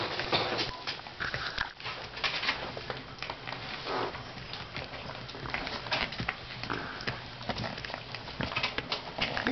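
A young female puppy shuffles about close by, with soft pattering paws, snuffles and rustling movement continuing throughout.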